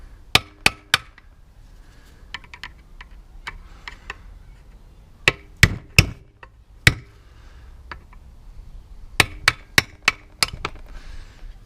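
Sharp metallic hammer taps on a lawnmower part to loosen it, in scattered bursts of two to four strikes with short pauses, close and fairly loud over a quiet room.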